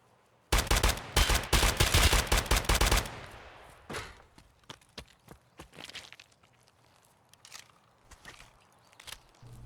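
ADR rifle gunfire in Escape from Tarkov near a forklift and sheet-metal fencing: a loud rapid burst of about a dozen close shots, then scattered quieter footsteps and single impacts.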